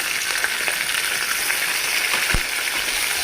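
Curry leaves and tempering spices fry in hot oil for a raw mango pulihora, a dense, close sizzle with a few faint pops and stirring clicks, no voices.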